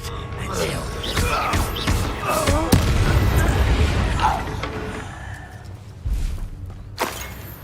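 Confringo spell blasts in Hogwarts Legacy go off as several booming explosive impacts and pops amid combat clatter, mixed with spoken voices throughout and a few sharp hits near the end.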